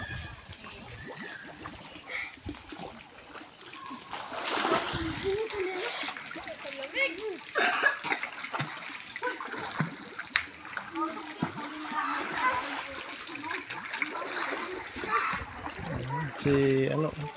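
Outdoor splashing and sloshing of water as someone swims on a farm, heard continuously beneath a child's and an adult's talk, with occasional louder splashes.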